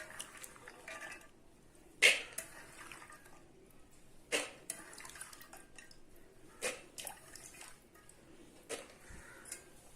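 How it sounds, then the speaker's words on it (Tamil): Soaked peanuts tumble into a pressure cooker in a home kitchen while making peanut sundal, giving a few sharp clattering drops and small splashes at around two, four and seven seconds over a quiet room. "இப்போ இந்த ஊற வச்ச வேர்க்கடலையை நான் குக்கரில் போடுறேன்."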